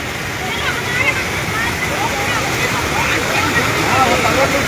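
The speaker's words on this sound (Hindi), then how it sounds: "ये पानी जो है दरिया की शक्ल में नीचे को रुख कर चुका है" Floodwater rushes downhill like a river through the streets of Budan, a loud, dense, continuous roar of churning water that holds steady throughout.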